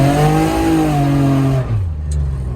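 A car engine being prepared for a car show in Islamabad revs loudly and close by, its pitch climbing and then sliding back down over a couple of seconds.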